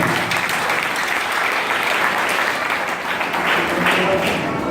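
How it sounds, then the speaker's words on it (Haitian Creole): A congregation at a church service applauds in a dense, sustained burst of clapping that continues evenly throughout. "C'est là qu'on va balancer un applaudissement de ça."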